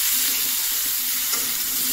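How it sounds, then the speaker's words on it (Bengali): Vegetables being stirred in a hot pan just after salting, a steady close sizzle with soft scraping movements running throughout, no voices. "দিয়ে এখন একটু নাড়াচাড়া করে রেখে দেবো"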